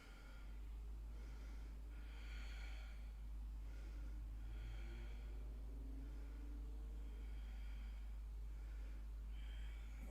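Slow, deep yoga breaths taken during a held pose, several long inhales and exhales drawn through the nose in an even rhythm, soft and close over a low steady hum.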